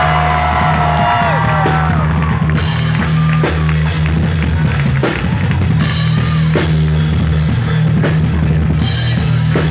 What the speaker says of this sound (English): If you guys could do me a huge favor and give a warm round of applause for Mr. Joel Penton.